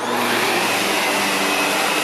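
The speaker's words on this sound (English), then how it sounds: "I'm going to take my time and vacuum it slow" A vacuum cleaner runs slowly over an area rug during a dry foam encapsulation cleaning job, a loud, steady whining roar close by that fills the whole stretch without any talk.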